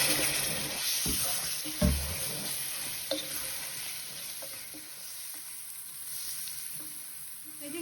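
Berbere spice frying for Ethiopian lentil stew, with a steady sizzle and stirring scrapes as small splashes of water hit the hot pan, a couple of louder clunks early on.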